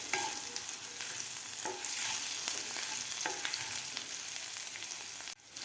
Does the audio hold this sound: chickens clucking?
no